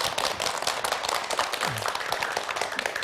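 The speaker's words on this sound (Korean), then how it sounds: "박수 네. 부탁드립니다." Lecture audience in a Korean broadcast hall on dizziness clapping at the start of a talk, a steady dense patter of many hands, fairly loud and continuous throughout.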